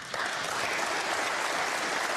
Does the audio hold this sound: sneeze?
no